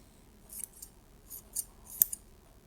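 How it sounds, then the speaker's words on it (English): Scissors cut into foam with a few short, crisp snips, about five spaced cuts heard close up in an otherwise quiet room. "going to cut foam"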